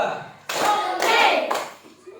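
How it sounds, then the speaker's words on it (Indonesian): Hand claps in a counted clapping game, a few bursts of clapping in uneven groups, close and fairly loud, with children's voices faintly mixed in. "Tepuk 1. Tepuk 2. Tepuk 3. Tepuk 4."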